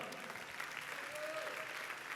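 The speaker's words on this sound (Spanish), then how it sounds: "Alguien dele un aplauso a Dios" Congregation clapping at a church service, a brief, quiet, distant patter of many hands that stays steady for a couple of seconds, with a faint voice threading through.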